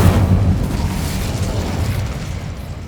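Incendio fire spell cast in Hogwarts Legacy: a loud, deep whooshing burst of flame that fades gradually into a rumbling tail, with no voices.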